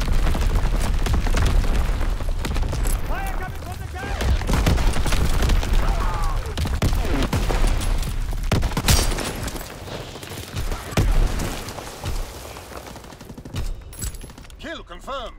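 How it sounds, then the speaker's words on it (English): Mortar rounds exploding in a WW2 video game, a dense, continuous barrage of booms and gunfire-like blasts that stays loud throughout, with many overlapping impacts and no spoken voices. "Target zone locked. Sending mortar rounds."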